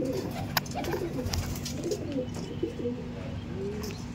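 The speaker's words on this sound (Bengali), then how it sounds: "দেখুন পায়রা দেখুন" Soft, repeated cooing from Arshad line breeding pigeons, a continuous low throaty murmur close by, over a faint steady hum with occasional small clicks.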